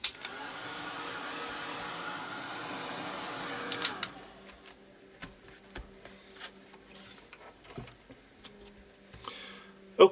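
A dryer blows steadily for about four seconds to dry paint on a Halloween graveyard craft project, then cuts off, leaving faint tapping and rustling handling sounds.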